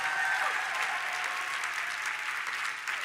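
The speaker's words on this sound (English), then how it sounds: "Give me some round of applause." Sustained audience applause at a motivational speaking event fills the whole span, a dense, steady wash of many hands clapping at moderate loudness with no voices standing out.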